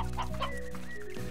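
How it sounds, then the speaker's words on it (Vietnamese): A chicken in the video game Slime Rancher clucks in a series of short, wavering calls at close range, fairly clear over a steady background game tone, with no talking over it. "Có con gà."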